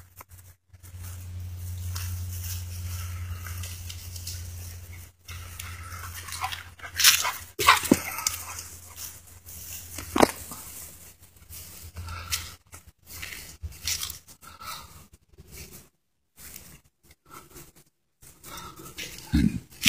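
A dog moves about close by outside an off-grid home, making rustling, snuffling and chewing-like noises in irregular bursts over a steady low hum, with no talking.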